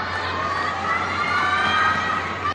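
Tennis fans in a packed stadium cheer and shout loudly during a women's singles semifinal, a sustained roar of crowd voices with excited, higher-pitched yells rising over it.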